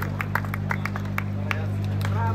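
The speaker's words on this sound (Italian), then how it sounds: "eccovi l'applauso del pubblico siciliano per Gian" A Sicilian crowd claps during a rally podium ceremony in a town square, scattered applause at a moderate distance under an engine hum and background chatter.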